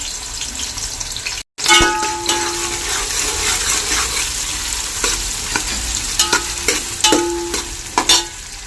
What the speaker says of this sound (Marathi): आता गॅस कमी करून कांदा टाकून घेते त्याला हलवू आपण छान